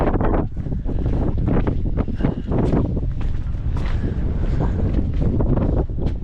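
Gusty wind buffets a microphone outdoors beside a Peterbilt truck in midwinter cold, loud rumbling bursts rising and falling continuously with no speech.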